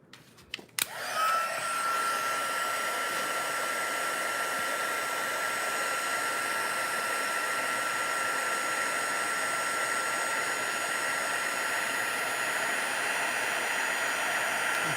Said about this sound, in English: Get out my heat tool.